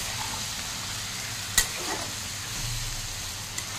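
Lote fish (Bombay duck) with vegetables being mixed in a pan, a soft low sizzle with a single sharp scrape of the spoon partway through and a faint knock near the end.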